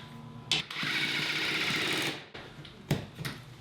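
A power drill drives a screw into wood framing during a bedroom-to-bathroom renovation of a century-old house, a close, steady motor whir lasting about a second and a half, bracketed by sharp clicks and knocks.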